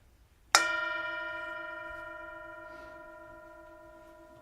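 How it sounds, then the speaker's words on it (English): A single mindfulness bell is struck once during an Easter Sunday service, giving a clear, bright tone that rings out alone in a quiet room and decays slowly over several seconds. "I invite you one more time to enjoy the sound of the bell."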